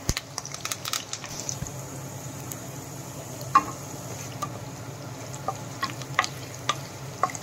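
Curry leaves and onion pieces fry in a pan while rice ravva upma is made, giving a low steady sizzle broken by sharp crackles and pops, close and alone.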